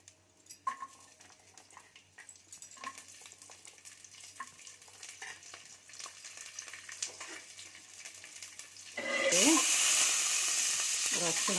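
Garlic frying in oil in a pan for an Odia vegetable curry (santula), a soft crackle with occasional stirring clinks that swells into a loud, steady sizzle near the end.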